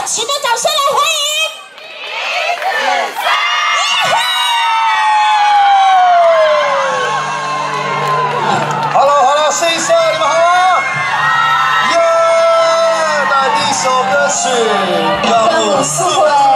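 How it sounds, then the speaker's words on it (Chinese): A crowd at an outdoor singing show in Xinshe, Taichung whoops and cheers loudly to welcome a singer from a talent contest, with rising and falling shouts and whistles running throughout. "让我们用热情的掌声来欢迎"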